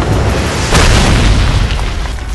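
A loud explosion hits with a sudden booming burst, followed by a rumbling, noisy roar that lingers and slowly fades, close and alone in an animated action scene.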